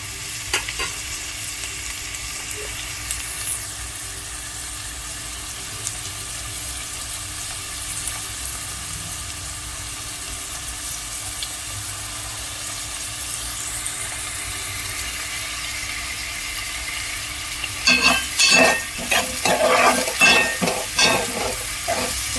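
Onions frying in a pan with rock salt, a quiet steady sizzle for most of the time, then louder metallic stirring and scraping clatter in the last few seconds, no voices.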